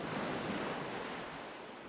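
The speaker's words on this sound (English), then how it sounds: "The ocean is a deep shade of blue, with the fine white crests of the waves sweeping towards the shore." Ocean surf rolls toward the shore in a steady, unbroken wash of white noise, moderately soft and continuous with no voices.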